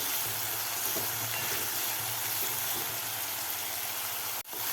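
Tomatoes and onions sauté together in a pan for a quick gawar (cluster bean) bhaji, giving a steady, even sizzle with a low hum beneath it. A brief dip near the end interrupts the otherwise constant frying.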